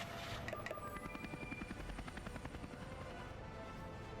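Mi-10 helicopters in Workers & Resources: Soviet Republic, a steady rhythmic rotor chop with a whining engine tone, even and continuous at moderate level without talk.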